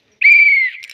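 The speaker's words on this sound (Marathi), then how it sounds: "मी हे बघा जत्रेतून शिट्टी घेतली आहे. तर आता मी रोज वाजवत बसणार आहे सकाळ संध्याकाळ." A toy whistle from a village fair gives one loud, shrill, steady blast that holds for about half a second and then drops away, heard alone.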